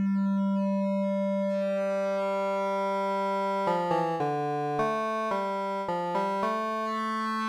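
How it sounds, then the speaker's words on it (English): A triangle-wave tone from Ableton Live's Drift synthesizer with a mellow, soft timbre and few overtones, sustained at first, then stepping through a series of short notes. "That's more like a regular triangle. Kind of light on the overtones"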